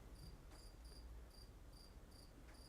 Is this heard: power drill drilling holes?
no